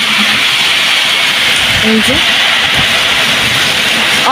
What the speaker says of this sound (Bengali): অনেক ঝড় তুফান হচ্ছে